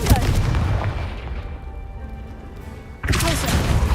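A Confringo spell in Hogwarts Legacy sets off a booming blast that dies away into a quieter stretch, then a second loud burst of crashing noise, with a voice talking over it.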